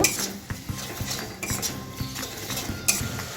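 Ginger and green chilli paste with cumin and coriander powder cooks in a pan while a metal spoon stirs it, giving repeated close clinks and scrapes over a faint sizzle.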